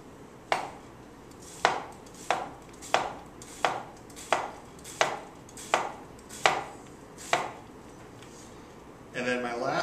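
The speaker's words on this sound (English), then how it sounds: "Then I'm going to cut the second third still on the onion." A knife cuts through an onion on a cutting board in a run of about ten evenly spaced, crisp chops, close and distinct against a quiet background, with a short rustle at the end.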